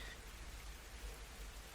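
Rain ambience for a tabletop fantasy adventure set in Barovia: soft, steady rainfall, faint and continuous, with no voices.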